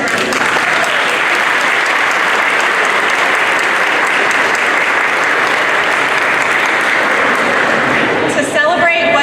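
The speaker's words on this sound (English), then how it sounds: "I think that deserves a round of applause." Loud, sustained applause from a large crowd at a civic celebration in Akron, a thick unbroken roar of clapping that runs for about nine seconds with a few louder claps near the end.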